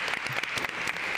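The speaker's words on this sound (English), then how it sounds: "that's worth clapping for" An audience applauds at a talk about women in STEM, with dense, steady clapping from many hands filling the room throughout.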